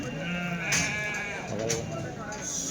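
Sheep bleat a few times amid a busy flock at the Kadiri weekly sheep and goat market, with people talking nearby over steady outdoor background noise.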